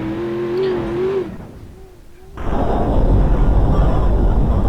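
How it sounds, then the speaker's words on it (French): A car smashes engine-first into an obstacle in the BeamNG.drive driving game, sending a wheel flying off; a tonal engine hum drops away, then a loud, sustained crunching, rumbling roar of the impact continues. "en plein dans le moteur, la roue éjecte"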